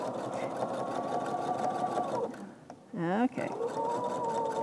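A sewing machine stitches a bias seam on quilt pieces, running steadily close by, pausing briefly while someone speaks a word, then starting up again.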